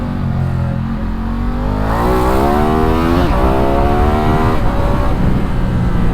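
A Ducati Diavel sports cruiser motorcycle accelerates hard in first gear, its engine note climbing steeply in a loud, close roar that peaks and rises again as it pulls, with no talking.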